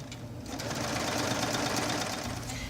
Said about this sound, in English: as we sew, this is going to be gathered into that top piece.